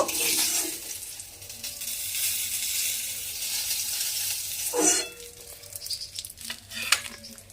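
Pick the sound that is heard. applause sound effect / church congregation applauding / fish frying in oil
fish frying in oil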